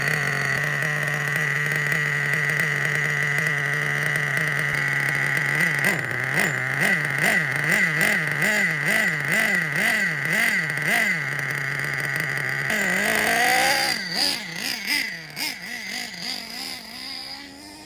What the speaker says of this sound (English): You get the sound of the nitro engine and the smell of the nitro fuel burning.